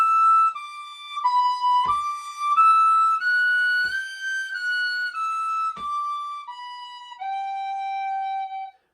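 Tin whistle plays two bars of high notes, a clear, bright melodic line of sustained pitches stepping up and down, close and solo with no talk.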